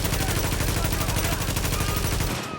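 Full-auto weapon fire from The Division video game, a loud, continuous rapid stream of gunshots at close range that holds steady for over two seconds before cutting off abruptly.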